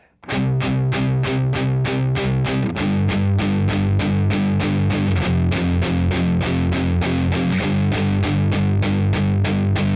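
Heavily distorted electric guitar chugs through palm-muted power chords in a tight, steady rhythm, shifting chords every few seconds, loud and close.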